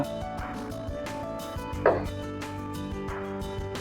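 Kitchen knife cutting a potato into julienne matchsticks on a cutting board, a series of close, irregular chopping taps with one louder knock midway.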